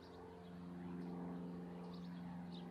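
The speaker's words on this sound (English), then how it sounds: "There's a plane going by right now." A propeller airplane passes overhead outdoors, a faint, steady droning hum with low tonal layers that holds level throughout and has light outdoor ambience around it.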